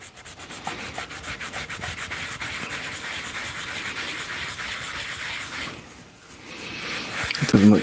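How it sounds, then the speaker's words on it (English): Sandpaper rubs against a turned wooden bowling pin spinning on a lathe, making a steady, close, abrasive hiss that eases briefly near the end before a louder bump. "Sometimes I'll take a rag and strap it, like tape it or rubber band it to the sandpaper to do the polishing."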